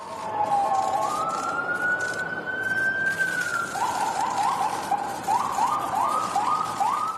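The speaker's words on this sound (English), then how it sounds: "As sirens blared in the background." A loud siren wails continuously, a long rising-and-falling tone that shifts into a rapid yelping pattern, with traffic noise underneath.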